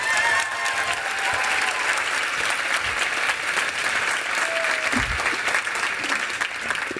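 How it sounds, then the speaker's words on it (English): A large audience at a corporate company event gives a sustained, dense round of applause, steady and loud throughout with faint crowd murmur beneath. "let's give them another massive round of applause"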